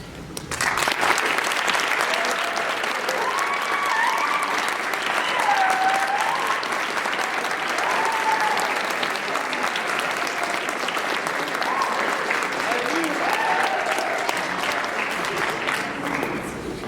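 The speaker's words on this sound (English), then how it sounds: "I'd like the rest of us to greet them with our applause" Campus debate audience applauds the student body president candidates, dense sustained clapping from a large crowd in a hall, loud and continuous for many seconds, with some voices faintly mixed in.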